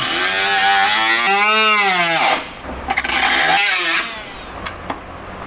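Air-powered spot weld chisel cutting spot welds on a rusty 1962 Chevy C10 pickup, loud close rattling bursts with a rising-then-falling whine, a short pause, then another burst and a few brief clanks.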